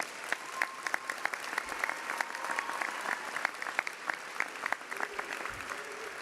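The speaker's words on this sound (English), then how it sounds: "you can clap." Applause from the audience at a law school commencement: many hands clapping at a moderate distance in a large hall, a lively, crackling patter that carries steadily for several seconds with a few low thumps beneath.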